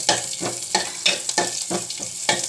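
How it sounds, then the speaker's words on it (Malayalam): Mustard seeds, onion and curry leaves splutter in hot coconut oil, a steady crackling sizzle punctuated by regular stirring strokes about every third of a second. "തേങ്ങ അരച്ച് വെച്ച് കടുക് പൊട്ടിക്കുന്നു. കടുക്, ഉള്ളി, കറിവേപ്പില, വെളിച്ചെണ്ണയിൽ."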